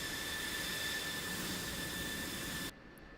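A simulated F-16 Viper jet engine in the DCS flight simulator game hums in a steady, loud whine with a high tonal edge, then cuts off abruptly near the end, no voices over it.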